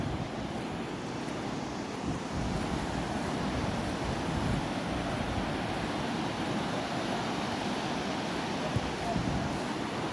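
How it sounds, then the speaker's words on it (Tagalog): Strong sea waves pounding a beach in Morocco, a continuous loud roar of surf with wind buffeting the microphone throughout. "lakas ng alon."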